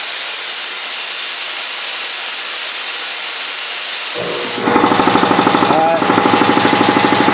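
A Champion air compressor kicks on partway through, its steady hiss giving way to a loud, rapid pulsing mechanical chatter that runs on close by, with a brief spoken word near the start.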